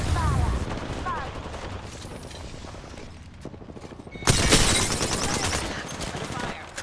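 Bursts of automatic gunfire from the battle royale game Apex Legends rattle in quick volleys, swelling into a loud, dense barrage near the end, with a voice talking over the fire.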